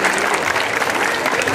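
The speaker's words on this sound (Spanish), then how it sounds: "Yo les pido que le den un fuerte aplauso a todos estos niños que participaron el día de hoy." Audience applause honoring children who took part in a municipal community event, a dense steady clapping that fills the whole moment with faint crowd murmur underneath.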